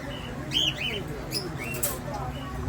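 Pet birds kept as breeder pairs give short, high chirps and tweets, several calls scattered over a quiet indoor background.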